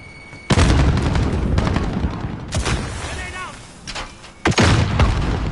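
A video game firefight with loud explosions and bursts of gunfire, a sharp blast near the start, another heavy boom midway and a third near the end, with bits of electronic game sound between and voices now and then.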